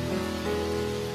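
Steady heavy rain pouring in a Shin Chan cartoon scene, a continuous loud wash of downpour with no breaks across the whole moment.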